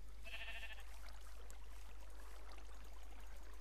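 A Minecraft sheep gives one short, bright bleat near the start, alone against a faint steady hum, followed by quiet background with no talk.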